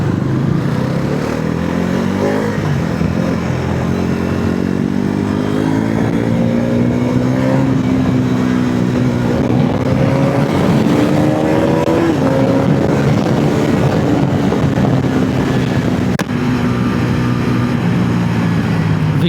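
A motorcycle engine drones steadily while riding, a loud close buzzing hum whose pitch slowly rises and dips with the throttle over wind rush, continuous throughout.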